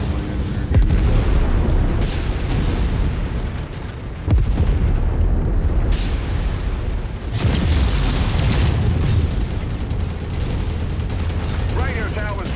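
Explosions and gunfire in a video game as a radio tower is destroyed, with loud booming blasts and bursts of shots layered over continuous noisy action throughout.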